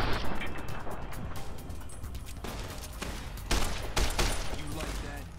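Gunfire with armor-piercing rounds in Fallout: New Vegas, sharp shots cracking out at irregular intervals, with a close, loud pair of blasts near the end, while someone talks over the action.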